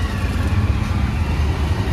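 An auto rickshaw engine runs steadily from inside the cabin, a close, continuous low rumble with slight fluctuations and no talk.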